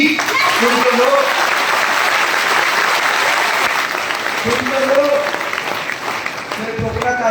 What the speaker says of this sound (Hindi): इस बात पे तालियां चाहूंगा मेरे दोस्त